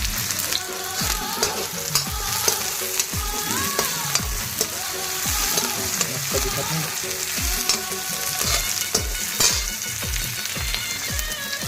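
Cumin seeds and garlic frying in hot oil for a tempering, a steady close sizzle and crackle with stirring scrapes throughout, no talking.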